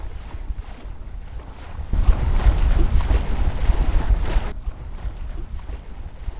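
A sailboat under way in winter wind near Seattle, with steady wind rumble and water noise against the hull that swells louder in the middle and then eases, no voices.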